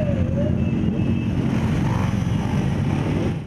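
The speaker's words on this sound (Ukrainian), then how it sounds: "колона байкерів проїхала" A column of bikers' motorcycles riding through city neighbourhoods at a motorcycle season opening, a steady blended engine drone passing at moderate distance, with faint voices beneath.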